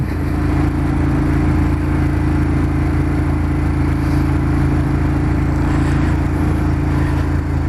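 Ducati Monster 1200 S motorcycle engine running steadily while riding, a loud continuous low drone with a mild rise in pitch, no speech over it.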